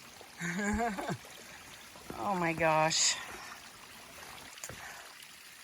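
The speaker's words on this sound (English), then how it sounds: "the trail is actually a river" Water running down a muddy, rocky mountain trail like a river on Wolf Mountain, a steady close trickling wash throughout, with a person speaking briefly over it twice.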